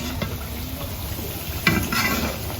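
Jaggery rice cakes (pitha) frying in oil give a soft, steady sizzle close by, with a brief clink of a utensil against the pan near the middle and no speech.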